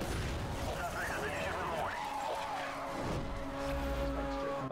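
A crash at a police spike strip during a high-speed chase in Need for Speed Hot Pursuit Remastered: roaring engines and squealing tires, then a crunching impact, with music and game noise continuing throughout.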